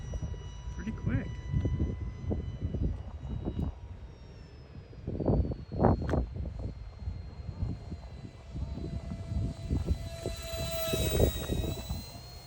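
A UMX F86 radio-controlled model jet flies overhead with a thin, wavering motor whine, swelling into louder passes as it comes near and fading between them, with a person talking throughout.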